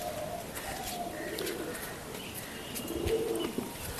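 Pigeons coo softly inside a home-built wooden and bamboo loft with netting, a few low wavering calls rising and falling over quiet background rustle.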